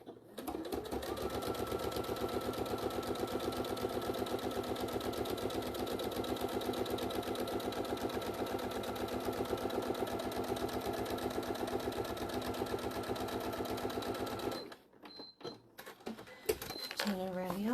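A sewing machine fitted with a zipper foot stitches a mini bag in a fast, steady mechanical run for about fifteen seconds, then stops and gives way to a few handling clicks and light rustles.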